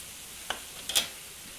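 Gluten-free donuts frying in hot oil give a faint steady sizzle with a couple of brief louder crackles and splashes as they are flipped, close by and without speech.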